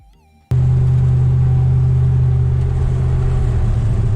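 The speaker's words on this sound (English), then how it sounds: "So let me show this video of me driving down the road" A 2000 Ram 1500 pickup with a 4.56 gear swap cruises down the road, its engine starting abruptly after a brief quiet moment and then holding a steady, loud, close low drone with a slight rise near the end.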